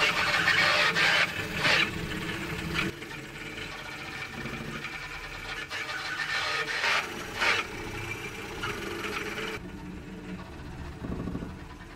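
Bed-slinger 3D printer with a Creality Sonic Pad printing at high speed, around 400 mm/s: a continuous whirring, buzzing motor drone with rhythmic swells as the bed swings back and forth, steady and close, no talk.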